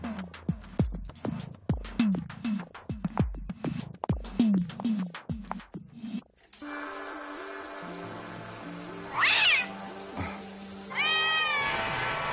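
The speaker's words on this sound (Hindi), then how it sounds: "वो तो बिल्ली थी।" A cat meows several times in a Turkish horror film, with loud, close cries standing out over a sustained musical background. Percussive thumps come first, then the music, with no talk.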